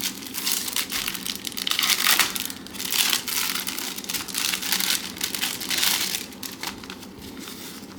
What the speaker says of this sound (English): So it comes in the noisy paper and then you open it and then there's more paper.